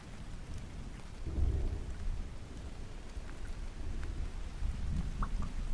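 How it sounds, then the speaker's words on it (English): Steady rain falls on an island beach while low thunder rolls in the distance, a constant soft hiss over deep rumbling swells, with no speech. "Rain."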